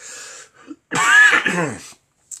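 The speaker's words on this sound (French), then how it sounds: "Ah, ça y est, je tousse maintenant." One throaty cough bursts out close and loud, with short breathy noises before it and silence after.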